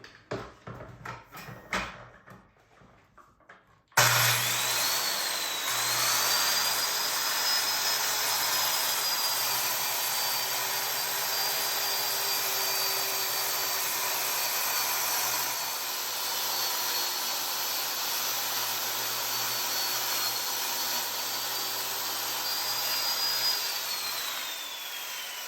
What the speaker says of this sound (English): We finally can rip some plywood here.